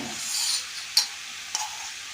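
Cauliflower frying in oil in a pan is stirred, giving a steady close sizzling hiss broken by two brief sharp scrapes of the utensil against the pan.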